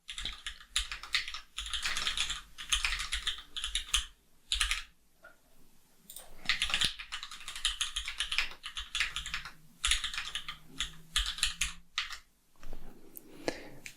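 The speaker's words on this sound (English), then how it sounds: "So I'm going to go ahead and type the title as well." Rapid, steady typing on a computer keyboard while entering a title in app-building software, with dense clicking bursts separated by brief pauses, close and clear with no voice.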